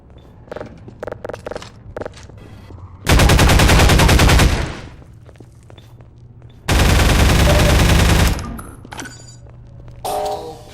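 Automated turrets firing in Half-Life 2, two long, loud sustained bursts of rapid gunfire separated by quieter thumps and footsteps, with another short burst at the end.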